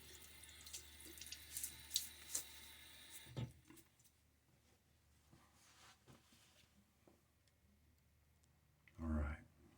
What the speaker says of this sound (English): A bit of water on my face.